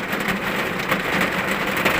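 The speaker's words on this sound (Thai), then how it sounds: "ฝนตกครับ" Heavy rain pours down steadily outdoors by a reservoir, a dense, close, unbroken wash of hiss and patter that stays loud throughout with no voices.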